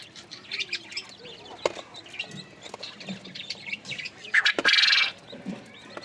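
Quail kept on a farm calling, with a series of soft chirps and tweets among rustling and flapping, and one brighter, louder burst of calls near the end.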